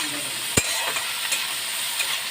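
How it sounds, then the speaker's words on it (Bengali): Small shrimp fry in a pan with a steady hiss of sizzling oil, a sharp knock near the start and a few soft stirring scrapes. "ভালো করে চিংড়ি মাছগুলোকে আমি একটু ভেজে নিই।"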